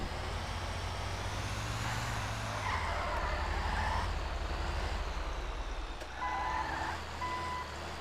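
A heavy truck engine in the video game GTA drones loud and constant as if redlining, rising slightly in pitch, with faint high beeps appearing near the end.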